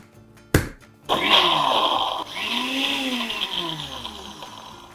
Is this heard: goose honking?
no